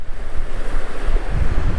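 Loud, rumbling sea surf at Ayekere bay near Kannur, with heavy wind buffeting the microphone, continuous across the whole short stretch.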